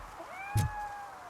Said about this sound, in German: Hast du gehört? Mauz? Mauz?